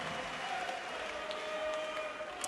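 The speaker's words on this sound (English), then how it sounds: "the roar from the German crowd here in Riesa will tell you that their man is back in this game" A German crowd at a darts match in Riesa roars and applauds in a steady, dense wash of cheering and clapping that fills the hall throughout.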